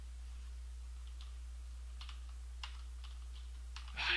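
Sparse, faint keystrokes on a computer keyboard during engineering design work, scattered clicks over a steady low hum, with a brief louder burst at the end.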